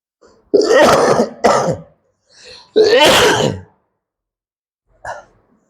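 Several harsh coughs close to the mic, two quick bursts and then one more, a faint breathy sound between them and a small cough at the end.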